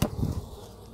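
Honey bees knocked off a lid into a Flow Hive 2 give a short, close buzzing hum that swells for a moment and then settles into a softer, steady drone.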